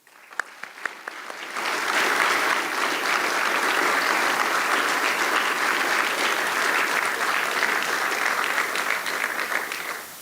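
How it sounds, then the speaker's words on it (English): Sustained round of applause from an audience at a U.S. Army ROTC commissioning ceremony at Murray State University, starting after a few scattered claps, then dense and steady before tapering slightly at the end. "Please join me in a round of applause."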